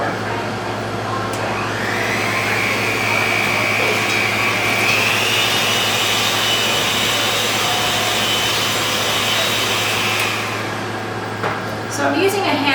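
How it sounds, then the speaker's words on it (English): An electric hand mixer whirs through sticky cookie dough, a steady motor whine that rises in pitch and holds before stopping near the end, loud and close with no talk over it. "So I'm using a hand mixer"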